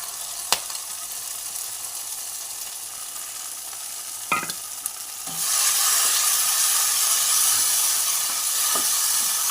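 Spice paste hits hot oil in a pan while pointed gourd dolma is cooked Bengali-style; a steady sizzle surges loud and bright about halfway through, with a few clinks of stirring before it and no talking.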